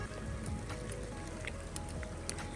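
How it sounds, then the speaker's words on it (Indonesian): Steady rain patters outdoors during a small-fish micro fishing session, a dense continuous wash of drops with faint scattered ticks, no talk over it. "udah mulai hujan"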